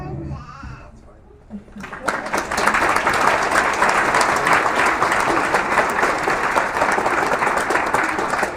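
After a brief quieter moment, a school audience at a seventh graders' movie premiere night breaks into loud, sustained applause, with scattered cheering mixed into the dense clapping.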